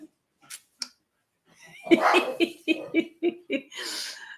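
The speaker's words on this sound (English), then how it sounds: "And Eric's barking and the cat's looking down from the top of the wall" A dog barks repeatedly at a cat perched on top of a garden wall, a run of close, punchy barks after a few faint early sounds.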